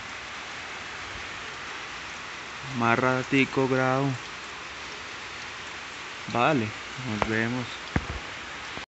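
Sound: rain falling

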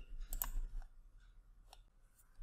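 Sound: mouse click on Refresh button

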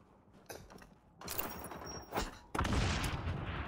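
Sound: gunfire in the video game XDefiant

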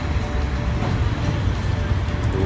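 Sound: train

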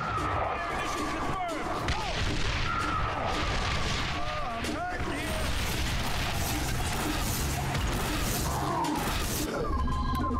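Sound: artillery fire mission in XCOM video game

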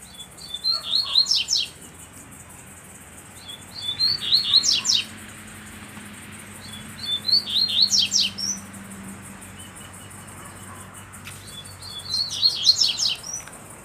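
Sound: coleiro (double-collared seedeater) bird singing

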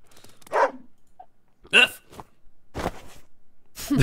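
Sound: dog barking in the video game Wargroove

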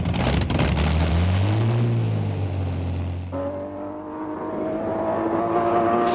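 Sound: Bluebird land speed record car with aeroplane engine passing

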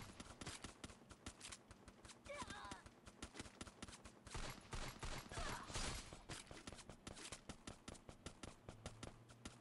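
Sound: gunfire in Free Fire video game

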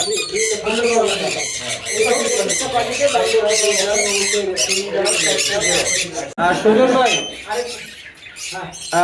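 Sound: pet breeding-pair birds squawking at a bird farm

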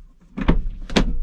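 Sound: car door being opened

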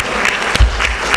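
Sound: audience applause at a conference tribute

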